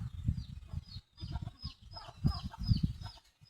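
A pet chicken gives rapid, agitated clucks and squawks in short bursts while being caught, close and fairly faint, with scuffling between the calls.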